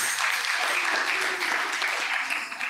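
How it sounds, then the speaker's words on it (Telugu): A congregation claps hands at a Palm Sunday worship service, with dense, continuous applause from many people filling the room at an even level for the whole stretch. "చప్పట్లు కొట్టండి."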